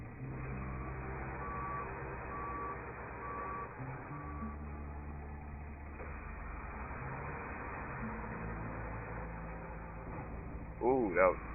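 A reversing truck sounds its steady, repeated backup beeps over a continuous engine hum, with a brief louder burst near the end, heard at moderate distance.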